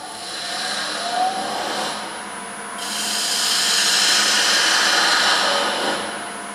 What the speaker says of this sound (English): Spindle gouge, and we'll just finish parting this off.